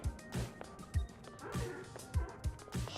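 A puppy barks and yips repeatedly in short, loud bursts, near and insistent, with some whimpering between barks.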